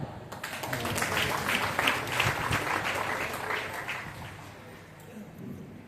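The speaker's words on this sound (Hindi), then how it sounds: "सबके लिए जोरदार ताली।" Audience applause at a presentation of DXN beauty products, a steady wash of clapping from a sizeable group running through the whole stretch, with a murmur of voices mixed underneath.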